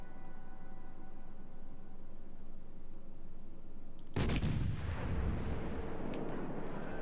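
USS Monaghan destroyer guns fire a single heavy salvo in World of Warships, a sudden loud boom after a quiet ambient stretch, followed by a rumbling decay and faint distant reports.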